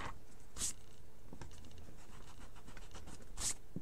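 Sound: erasing part of a pencil sketch

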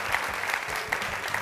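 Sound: audience applause for the Lexington quiz team

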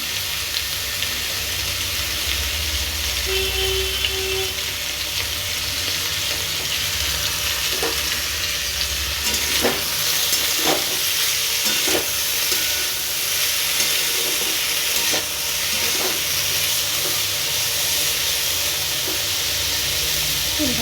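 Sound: potatoes and onions frying and being stirred in hot oil

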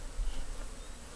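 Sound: honeybees buzzing

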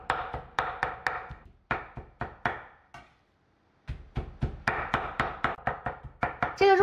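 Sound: chopping pork into minced meat

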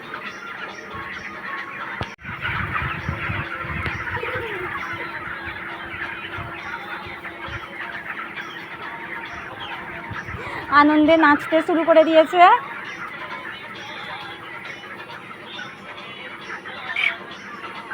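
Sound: chicken clucking

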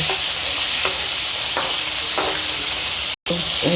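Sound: stuffed bitter gourd steaming and frying in pan

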